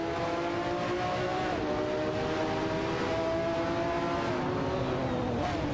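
Engines of a Porsche 911 GT1 and a Ferrari 288 GTO Evolution racing in a video game, a loud continuous drone with steady high-pitched whine that shifts slightly in pitch, no voices.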